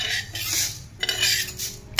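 Metal spoon scraping and stirring dry roasted coriander seeds in a pan, a few short scraping strokes, close and moderately quiet, no voices.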